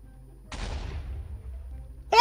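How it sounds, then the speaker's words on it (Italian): A single gunshot from a CrackShot weapon in a Minecraft-style video game fires at about half a second, a short burst that decays over a second, followed by a brief louder sound at the very end. "Un colpo, voglio vedere quanto mi spari lontano."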